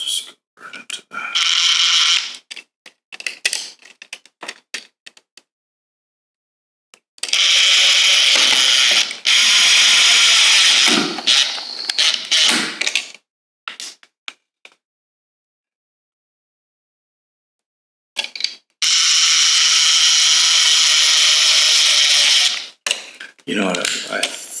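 A power screwdriver or drill drives screws to mount a wall thermostat, giving long, loud ratcheting whirs in three main bursts with short stutters and quiet gaps between them.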